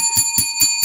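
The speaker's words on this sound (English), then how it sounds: "Let's ring the bell for that." A bright bell rings four times in quick, even succession, each strike a clear metallic ding with sustained high overtones, close and loud, with no talking.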